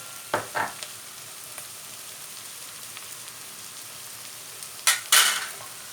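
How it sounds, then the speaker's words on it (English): Tomato puree frying in a pan with meat and chickpeas, a faint steady sizzle with a few sharp clatters of stirring near the start and a louder burst of scraping and sizzling toward the end. "So fry the tomato puree with your meat and your chickpeas."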